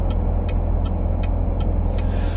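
Steady low engine rumble from a 2016 Corvette Z06 with a 650-horsepower engine, heard from inside the car while driving, a constant near drone with faint ticking on top and no talk.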